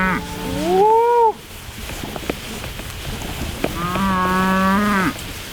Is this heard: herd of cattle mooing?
yes